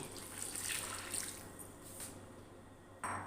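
A glass of water poured into a frying pan makes a continuous, fairly faint splashing and trickling stream with no talk, ending in a brief louder gush.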